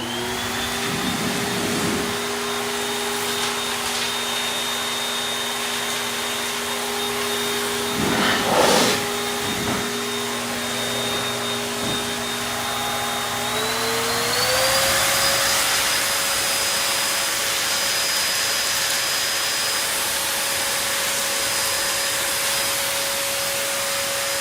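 A powerful high-velocity pet dryer (Shernbao) whirs at constant high pitch, briefly lurching and then rising to a louder, higher whine that holds steady to the end.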